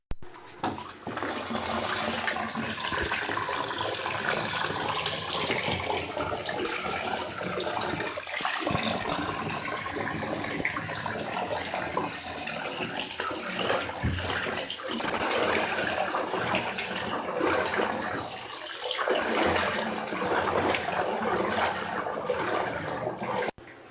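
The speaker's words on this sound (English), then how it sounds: "We joined him in the bathroom as he took a bath" Water sloshes and splashes continuously in a bathtub as a man bathes, a dense, close wash of liquid noise with brief pauses and renewed surges throughout.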